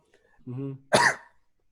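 A single harsh cough bursts out after a brief throat-clearing hum, close to the mic, then silence.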